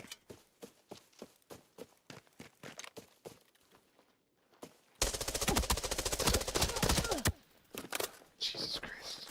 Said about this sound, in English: It's a different gun.